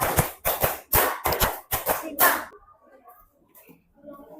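Classroom children clap in a counted rhythmic pattern, sharp loud bursts of synchronized claps in quick groups, then stop abruptly, leaving quiet room noise and faint voices.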